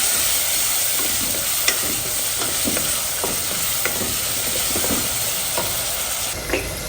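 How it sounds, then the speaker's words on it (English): Chili and cumin powder being stirred in a hot frying pan for an Indian leftover rice dish, a steady sizzle under irregular scraping taps of the spoon, close and alone. "a pinch of chili powder, some cumin powder, stir it a little bit"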